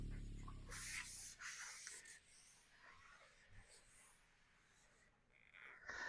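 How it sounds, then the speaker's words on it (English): A basic pull-through sharpener grinds a knife blade in a few quick, fairly quiet raspy strokes, with softer scraping and quieter gaps between them. "I just use a basic sharpener. I mean, it's not the sharpest thing in the world. Just one of those little pull-throughs."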